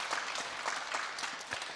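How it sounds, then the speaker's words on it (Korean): A church congregation at a dawn prayer service applauds to encourage its ordained deacons, a steady, fairly soft wash of many hands clapping together from a little distance, with no talk. "우리 안수 집사님들을 위해서 다시 한번 격려 박수 한번 하겠습니다"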